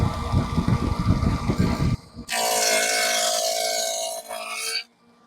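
A Freud 6-inch dado stack on a saw cuts through 3/4 inch scrap wood: a rattling motor runs first, then a loud sustained whine as the blades bite, ending abruptly with the cut.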